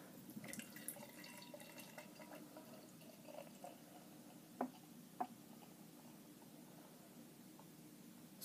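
Fremont Brewing Lush IPA, a hazy 2017 spring seasonal beer, poured into a glass, giving a faint, steady liquid trickle and fizz with a couple of small clinks, quiet and close with no talking.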